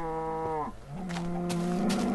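Cows in the Minecraft video game, two drawn-out low moos in quick succession, close and clear with no talk over them.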